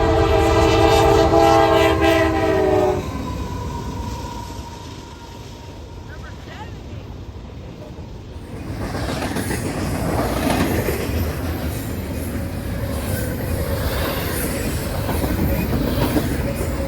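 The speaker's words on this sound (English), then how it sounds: "Here comes another train." A fast freight train rushes past a level crossing, its horn blaring at first before the heavy rumble and clickety-clack of wagons roll by close and loud, with a faint lull mid-pass.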